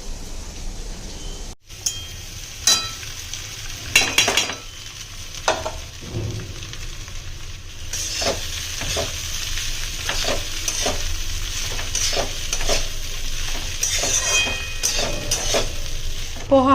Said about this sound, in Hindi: पोहा यहाँ पे बन रहा है, यहाँ दूध उबल रहा है